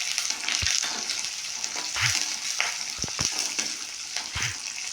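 Green chillies sputter and sizzle in hot oil in a pan, with curry leaves following, a steady crackling frying hiss broken by a few soft stirring clacks and pops, close and alone with no talk.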